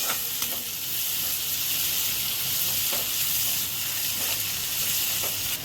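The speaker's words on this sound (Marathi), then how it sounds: "आपण टमाटे इथं परतून घेणार आहे" Tomatoes sautéing in a pan with turmeric and kitchen king masala for a potato curry, a dense, continuous hissing sizzle with a few faint stirring scrapes, close and steady.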